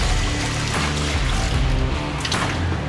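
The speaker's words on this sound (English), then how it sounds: "that's how you flush it" Water poured by hand into a manual squat toilet in rural northern Thailand to flush it, a steady loud rush and splash running unbroken throughout.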